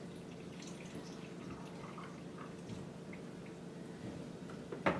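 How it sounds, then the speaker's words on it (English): Brine pours steadily over layered vegetables in a homemade pickle jar, a soft continuous liquid trickle with faint drips, quiet and unbroken, ending with a small clink near the close. "I'm going to pour my brine over top"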